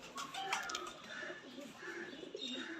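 Soft pigeon coos and warbling calls continue through the clip, close by, with faint rustling and a low murmur in the background.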